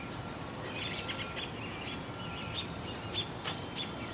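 Birds chirp outdoors in sunshine, a few faint, scattered tweets over a steady wash of ambient noise, distant and without talk.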